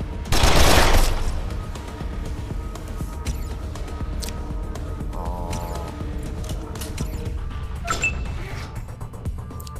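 Rapid bursts of gunfire in the video game Wasteland 2 Director's Cut crackle loudly at the start, followed by scattered lighter shots and clicks over a steady background hum.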